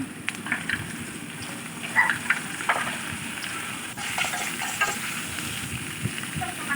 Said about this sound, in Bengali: একসঙ্গে দিয়ে ভালোভাবে নেড়ে চেড়ে ভেজে নেব